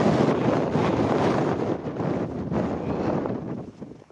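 Steady wind roars and buffets against the microphone on high moorland near Chew Reservoir, a dense rushing noise that holds throughout with slight dips toward the end.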